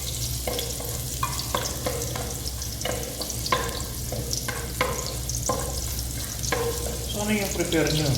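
Ginger sautéing in a pan for mung bean stew, a steady loud sizzle with repeated scraping stirs of a spatula at a regular rhythm, close up, with no talk.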